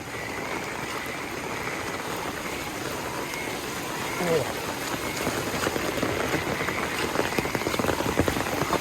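Heavy monsoon rain in Damnagar pours down in a constant dense hiss of drops on surfaces, swelling slightly louder in the second half, with no voices.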